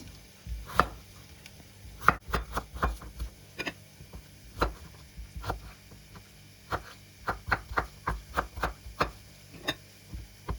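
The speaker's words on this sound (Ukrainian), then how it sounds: "Картоплю також нарізаємо такими не дуже великими шматками, щоб швидше все просмажилось." Potatoes cut into medium pieces with a knife on a cutting board, a run of sharp, irregular chops and taps, close and distinct against a quiet background hum, with no talking.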